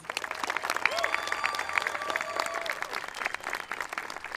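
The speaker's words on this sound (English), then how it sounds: "Please join me in giving the students a well-deserved round of applause." A crowd applauds students steadily at a school promotion ceremony, with dense clapping throughout and a few faint voices mixed in.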